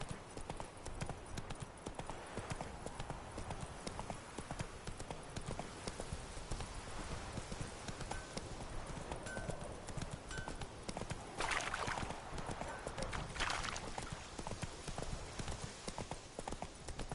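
Horse hooves gallop steadily in The Witcher 3, a fast continuous clip-clop that runs through the whole stretch at moderate, fairly close level. There is no talking, and a brief louder rush comes near the end.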